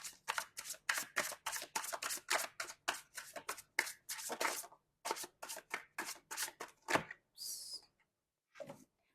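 Wide tarot cards shuffled by hand, a rapid run of crisp papery riffles and slaps in close bursts, a short pause, then a few more shuffles and a final light tap, no voices.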